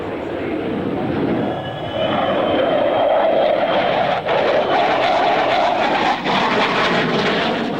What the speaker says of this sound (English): They brought their FA-18 fighter for a bit of friendly rivalry with the Americans.